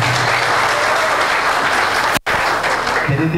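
Applause with some cheering from a crowd at a local AK Party district congress, loud and steady throughout, broken by a brief dropout near the end.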